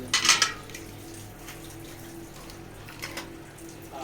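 Water splashes and sloshes as a bucket is rinsed clean, a short clattering burst at the start and then steady running water with faint clinks, with no talking.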